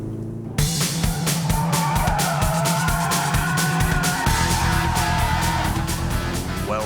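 A turbocharged 2-litre Mitsubishi Evo 7 is driven hard, its engine roaring steadily with tyre squeal and skidding over several seconds, loud and close with no talk.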